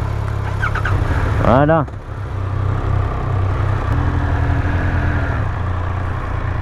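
Triumph Speed 1200RR motorcycle engine cranking briefly and catching, then settling into a steady low idle, close by, with a short spoken word over it.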